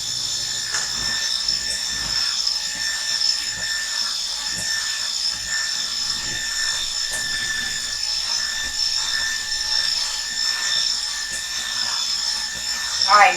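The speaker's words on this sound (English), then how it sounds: "occasionally, you're going to actually have to scrape the side of the bowl" A spatula scrapes the side of a mixing bowl of flour in a home kitchen, giving repeated soft scratchy strokes over a steady background hum.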